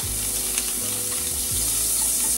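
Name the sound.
butter sizzling in a hot pan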